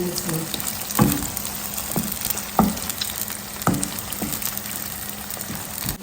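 Shredded onions go into a simmering garden egg and cabbage stew with a bubbling, frying hiss. Several distinct clunks and scrapes from a spoon or pot break into it at irregular intervals.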